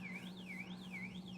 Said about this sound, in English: So there goes my alarms.